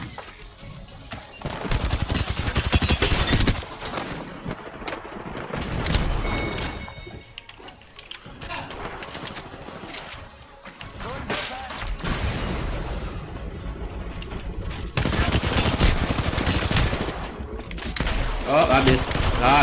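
Gunfire in the Apex Legends battle royale game, bursts of rapid shots crackling loudly in several clusters with brief lulls, mixed with in-game effects and a player talking over the action.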